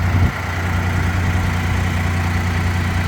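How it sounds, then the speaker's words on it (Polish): A forklift's Deutz diesel engine idling steadily nearby, a constant low rumble with a deep throb and no other sounds. "silnik w tym wózku, który słychać jest to silnik Deutz"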